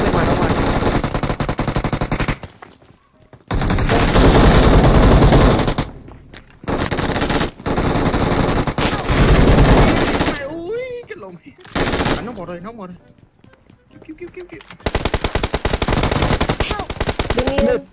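Loud bursts of automatic gunfire in the mobile shooter PUBG Mobile, several long rapid-fire volleys broken by short silences, with a voice talking faintly between them.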